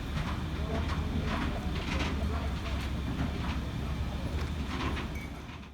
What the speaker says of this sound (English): this is a rake of auto ballasters with another GBRF Class 66